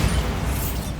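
Bombarda spell explosion in the video game Hogwarts Legacy: a single heavy, low boom with a rumbling tail, loud and close, standing alone without speech.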